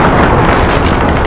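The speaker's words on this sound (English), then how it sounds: "Enemy cruise missile" An enemy cruise missile detonates in Call of Duty Modern Warfare, a loud, dense, rumbling blast that fills the whole moment with sustained roar and no voices.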